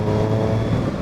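A 2007 Triumph Street Triple 675 motorcycle engine pulls steadily in sixth gear at around 40 mph, a loud, close, even drone with a constant low hum and no voices.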